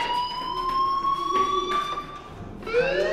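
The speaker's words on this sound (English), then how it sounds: "do you hear that fire alarm? That means you should be outside." In the video game Life Is Strange, a fire alarm rings with a steady, high electronic tone that holds for several seconds and then shifts to a wavering, siren-like pitch near the end, clear and fairly loud, with no voices.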